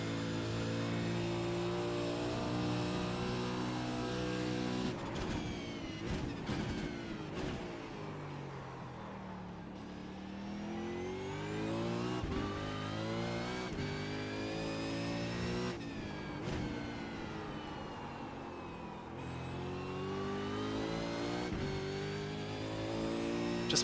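A Supercars race car in the iRacing sim roars through its final lap, the engine note repeatedly climbing and dropping sharply with gear changes and braking, loud and continuous throughout with brief tire squeal.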